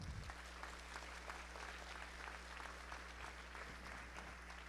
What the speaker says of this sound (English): Let's give another round of applause for our students from Willowwood Junior High.